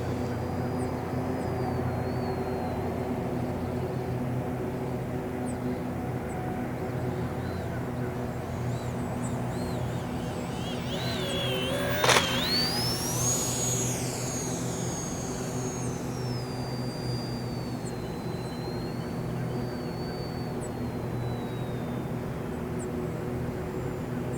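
E-flite UMX Viper 30mm electric ducted-fan model jet flying a slow stall at an airfield, heard as a faint, steady whine in the distance, with one brief sharp rising whoosh near the middle.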